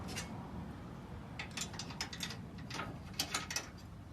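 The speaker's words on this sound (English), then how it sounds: "you're going to push the hitch lever forward and put the safety pin through." A hitch lever is pushed forward and a safety pin slotted through in a video game, giving a series of quick mechanical ratcheting clicks and clacks over a steady low background hum, with no talk.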